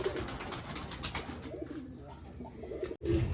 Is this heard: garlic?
no